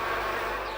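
Bees buzz in a continuous, close droning hum, brief and unbroken.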